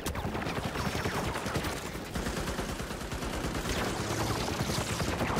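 Rapid bursts of automatic gunfire in a multiplayer shooter video game, dense and continuous across the whole stretch with crackling shots overlapping at close range.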